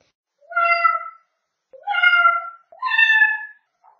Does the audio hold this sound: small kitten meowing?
yes